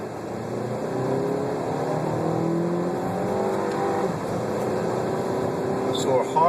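A race car at Summit Point, West Virginia, running hard on the throttle down the straightaway, its engine a steady sustained drone close to the cockpit, with a driver talking over it.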